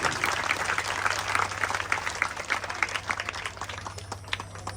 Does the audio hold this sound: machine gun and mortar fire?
no